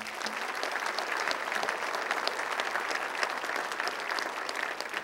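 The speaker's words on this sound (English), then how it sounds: "give them a round of applause" Steady, dense applause from a crowd at a State of the City address, clapping continuously at an even level from start to finish.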